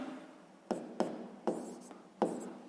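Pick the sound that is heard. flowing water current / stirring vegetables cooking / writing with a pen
writing with a pen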